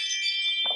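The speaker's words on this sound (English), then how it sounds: "The Ring doorbell." A Ring video doorbell sounds its motion-alert chime, a bright, sustained electronic tone held for under a second at moderate level, with a brief muffled noise near the end.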